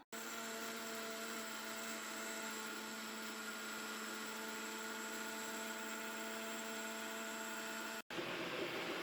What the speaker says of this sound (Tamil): இந்த சீரக பவுடர் ஏலக்காய் அப்படியே கொஞ்சம் கொஞ்சமாக போட்டு அரைச்சி அரைச்சி எடுக்க போகிறேன்